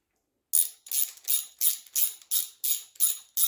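Ratchet wrench snugging bolts on a 350 Chevy TBI engine during a rebuild, a crisp, close clicking in about nine quick even bursts after a brief silence, with no talk.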